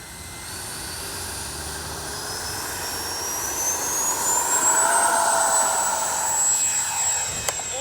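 Freewing F-22 Raptor 80mm RC jet taking off in the evening: a high, steady ducted-fan whine swells and rises in pitch as the model accelerates and climbs, close by, with no talking.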